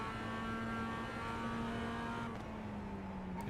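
A historic racing car engine drones steadily from onboard during a lap at Donington Park. The note stays continuous and sustained, dipping slightly in pitch near the end, with no voices.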